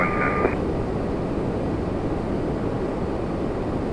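An airliner starts its takeoff roll at Toronto Pearson on a hot day: a brief electronic beep, then a steady, moderately distant jet roar that holds even throughout.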